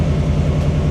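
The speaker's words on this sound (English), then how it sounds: "We start up the truck." A Ford F-150 pickup's engine runs steadily at idle after starting, a continuous low rumble with a constant hum and no breaks, close by and fairly loud.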